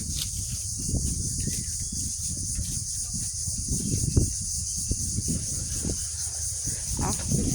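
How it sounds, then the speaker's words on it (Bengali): Crickets chirp in a steady high-pitched drone from rural vegetation, running continuously in the background beneath low rustling and footsteps. "শান্তি ঝিঝি পোকা"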